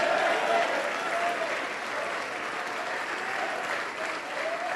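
A church congregation applauds steadily and loudly, a dense wash of many hands clapping together for about five seconds, with a faint voice audible beneath the applause.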